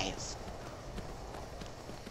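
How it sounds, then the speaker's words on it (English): A horse clip-clops through the video game Skyrim, a steady, fairly faint rhythm of hoof falls under a continuous game background. "I'm gonna get off my horse"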